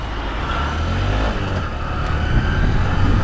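A Honda Shine 125 BS6 disc-brake motorcycle, 2021, accelerating from a start during a test ride. The engine hum builds steadily and loudly over about three seconds. Road and wind noise run beneath it, and no one speaks.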